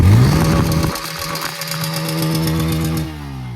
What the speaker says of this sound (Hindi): तो ऐसा कुछ इस बाइक का एग्जॉस्ट नोट है,